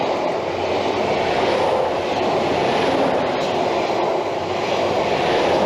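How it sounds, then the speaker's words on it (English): GWR Class 800 train passing through Hayle station, a loud, sustained rushing roar of the passing train that holds steady throughout, with no talk. "As the Class 800 passes through the station"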